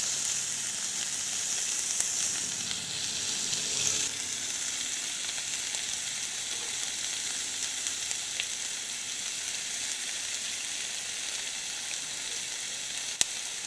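Steady loud sizzling of green chillies, tomato and cabbage frying in a hot pan for a vegetable noodle snack, a continuous close hiss with a faint stir or two and no voices.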